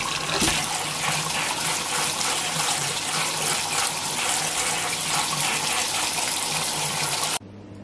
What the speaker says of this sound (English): take these over to my sink and strain them to get all the hot water off of them